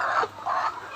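Caged laying hens clucking close by, two bursts of clucking with a short pause between them.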